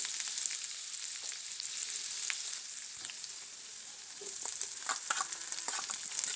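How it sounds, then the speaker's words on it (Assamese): Onions frying in a hot pan for breakfast, a soft steady sizzle with occasional crackles and light stirring scrapes, close and quiet with no talking. "ইয়াত দিছোঁ এতিয়া মই প্ৰথমে পিঁয়াজখিনি দি অকণমান সিজাই ল'ম"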